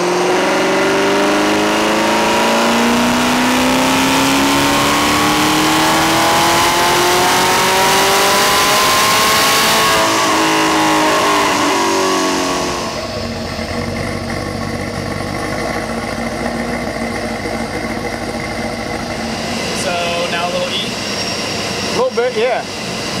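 A car engine revs hard on a dyno, climbing steadily in pitch for about ten seconds and then falling back to a loud idle and lower running, close and continuous, with occasional talk underneath.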